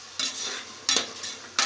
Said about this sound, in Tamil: வெங்காயம் போட்டு நல்லா வதக்குறேன்.